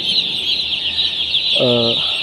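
Chickens in a brooding pen warmed by a used-oil heater cluck continuously at close range, with one louder, more tonal call near the end.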